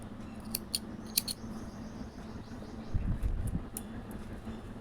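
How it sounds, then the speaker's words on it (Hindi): Scissors snip crochet thread in a few quick, crisp clicks, close and quiet, followed by a soft rustle of handled yarn against a low steady room hum. "हम धागा को काट कर देंगे"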